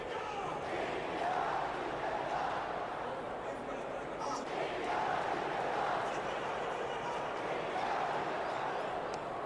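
A cricket stadium crowd in Ranchi during an India versus South Africa match, a faint, distant wash of cheering and crowd noise that rises and falls in waves beneath a commentator's voice.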